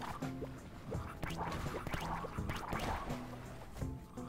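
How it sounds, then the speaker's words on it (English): Swimming in water in the video game Nobody Saves the World brings splashy, gurgling liquid sounds with soft drips, mixed with game music tones in a steady, busy stream. "And swim around in water."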